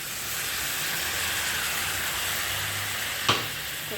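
Water left from rinsing poppy seeds is poured into onions frying in a pan, giving a steady loud sizzle throughout with a brief sharp splash near the end.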